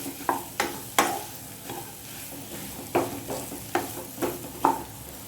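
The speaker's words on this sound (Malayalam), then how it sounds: "നല്ലതുപോലെ മിക്സ് ചെയ്യാം." Vada pav filling is stirred in a pan with a spoon, giving about eight sharp scraping strokes at an uneven rhythm over a soft continuous sizzle, close and moderately loud, with no voices.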